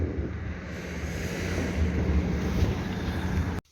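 Strong wind roars steadily against the microphone, a broad rushing noise that swells slightly before cutting off abruptly at the end.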